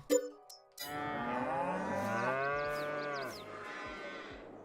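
Cattle mooing in the Farming Simulator 22 video game, several drawn-out lowing calls overlapping in a continuous chorus across a farm yard, loud and close, with no talking over them.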